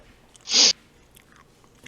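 Green jelly bean, juicy pear or booger flavour, bitten and chewed close to the mic: one loud, brief crunchy bite, followed by faint soft chewing noises.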